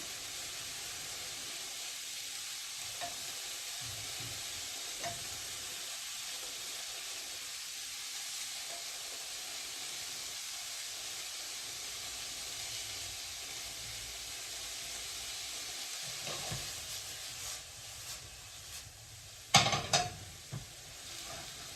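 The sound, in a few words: onions sautéing in a pan for Bolognese sauce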